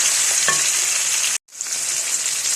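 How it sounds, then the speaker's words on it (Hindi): Spices and tomatoes frying in a pan for chicken pulao, a steady close hiss of sizzling oil that cuts out briefly midway, then resumes. "और अब हमने ना थोड़ा इन्हें फ्राई कर लेना है। ये जो हमारे टमाटर हैं ये मेल्ट हो जाए बीच में ना थोड़े से।"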